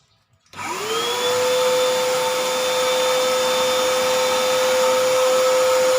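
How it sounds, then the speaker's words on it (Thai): A vacuum cleaner spins up and then runs with a steady, loud whine, working along the grooves of a Honda City car's air-conditioning air filter to pull out dust. "ใช้เครื่องดูดฝุ่น นะครับ มาดูดนะครับ ดูดตามร่องนะครับ"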